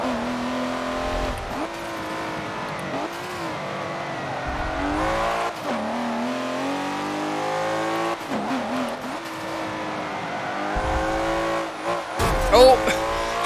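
Race cars in the Forza Motorsport 7 video game, engines rising and falling through gear changes with tire squeal under hard braking, continuous and fairly loud, with a voice talking over parts of it.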